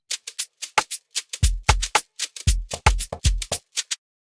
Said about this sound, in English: So another part we had here was this conga.